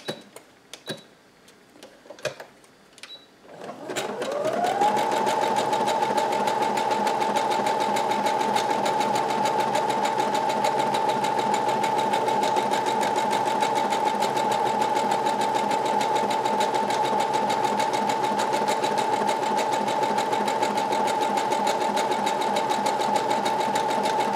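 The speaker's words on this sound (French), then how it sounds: "Donc là, je vais faire une couture zigzag." A sewing machine stitching a zigzag seam on fabric for a tank top starts after a few light clicks and then runs steadily at a constant humming, whirring rhythm, close and loud, with no talking.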